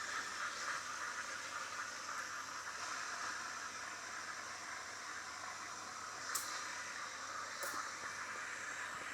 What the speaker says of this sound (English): Purge the steam wand again, get all the milk out so it doesn't smell weird.